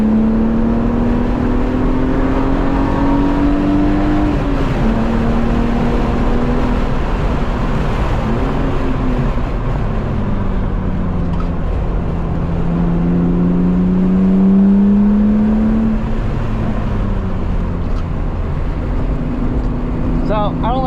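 A car on track tires driving hard at speed, with steady loud engine drone and rising, falling revs throughout as it slides through corners.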